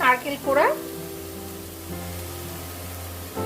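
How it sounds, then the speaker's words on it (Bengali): Grated coconut fries in a hot wok with a steady, soft sizzle, opening with two brief scraping bursts as it is tipped in and stirred, then a low even hiss. "এখানে কড়াইয়ে আমি নারকেলটা দিয়ে দিলাম"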